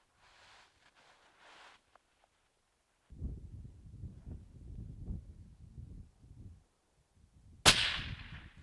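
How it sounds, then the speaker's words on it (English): A single sharp rifle shot fired toward a long-range target bursts out loud near the end, following a stretch of low rumbling wind or handling noise on an open range. "You can fire when ready."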